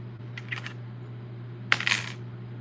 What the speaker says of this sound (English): So now we can click it.